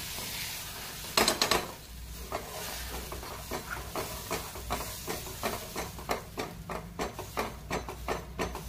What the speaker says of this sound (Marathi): हलवायचं, जेणेकरून त्याच्यामध्ये गुठली नाही झाली पाहिजे। हळूहळू फिरवून घ्यायचं।